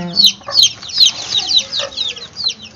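Several chicks cluck and squawk close by in a busy, overlapping chorus of short, high calls.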